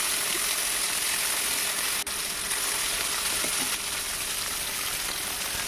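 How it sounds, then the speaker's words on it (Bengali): Pieces of hilsa fish, rubbed with salt and turmeric, frying in oil: a soft, even sizzle and hiss with faint crackles that runs steadily throughout at low volume. "তেলে ভেজে নিচ্ছি।"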